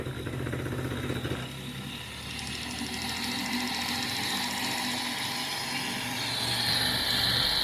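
A homemade electric motor and generator with a flywheel and 3:1 cog gearing runs on its own, a steady mechanical whir with a rattling, fluttering gear texture that shifts slightly partway through, close and moderately loud.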